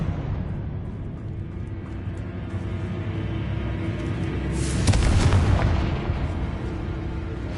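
Blasting Confringo spell explosions in Hogwarts Legacy, a loud burst swelling around the five-second mark over a steady rumbling game backdrop.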